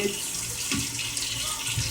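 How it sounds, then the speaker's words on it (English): Vegetable oil pours steadily into a small bottle, giving a continuous liquid trickle and gurgle heard close up for a couple of seconds. "And I just pour it into this bottle"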